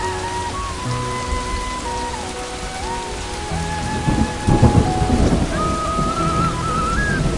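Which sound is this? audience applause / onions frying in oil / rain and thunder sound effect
rain and thunder sound effect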